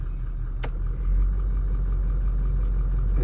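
Toyota LandCruiser engine idling after starting, a steady low rumble with a brief sharp click near the start, heard alone at moderate level.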